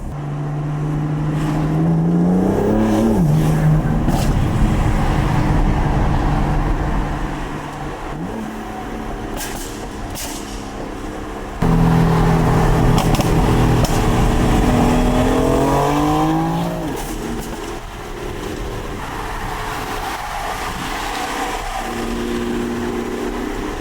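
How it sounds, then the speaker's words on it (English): A V6 Dodge Challenger revs and accelerates nearby, its engine note climbing and dropping through several gear changes and throttle surges across a sustained, loud drone. "I got some kid in a V6 Challenger behind me acting crazy."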